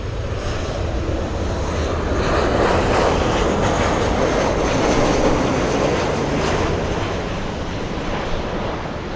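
A United Airlines jet flying in to land at LAX from Baltimore produces a sustained engine roar that swells gradually to a peak mid-way and then eases slightly, loud and fairly near, with no voices.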